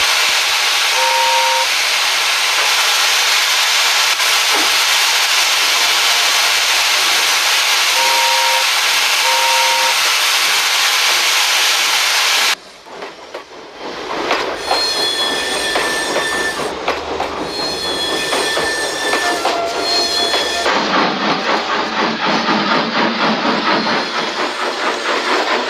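A steam train hisses loudly and steadily, then shifts into rolling wheel clatter and squeals as it pulls away, with brief whistle tones along the way.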